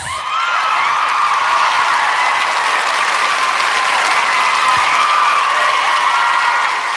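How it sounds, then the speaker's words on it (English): A podcast audience breaks into loud, sustained applause, a dense, even wash of many hands clapping that holds steady for several seconds without talk. "give yourselves a round of applause"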